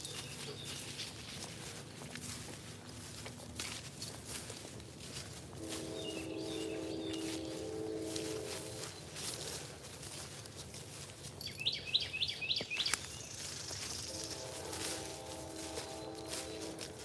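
Birds chirp and sing in a quiet morning outdoor setting, faint scattered calls and short warbling bursts spread over a soft background hush, with a few brief louder trills partway through.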